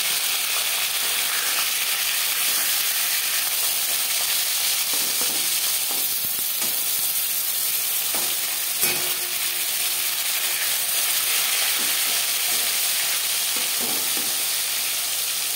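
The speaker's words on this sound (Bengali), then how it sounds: "মাছ একটা সাইড ভাজা হয়ে গেলে অপর সাইড উল্টে দেবো।" Rohu fish pieces fry in hot oil after being turned, a steady loud sizzle running throughout with a few faint utensil clicks and no voices.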